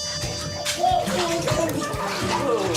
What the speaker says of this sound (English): Okay, splash. Splash.